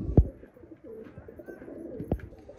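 A male pigeon coos while courting a female, two short throaty bursts separated by a soft, low murmur of bird sounds nearby.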